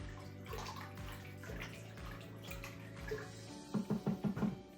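Water and beer being stirred together in a bowl for pizza dough, a steady wet sloshing that ends in a run of five rhythmic, louder splashing strokes, close up.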